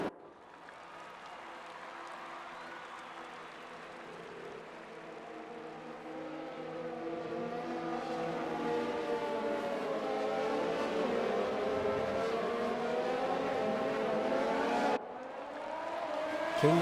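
Race cars in a sim racing game, restarting after a safety car at the Netherlands round, build a rising engine drone that swells steadily as the pack accelerates, ending in a sharper burst of revs.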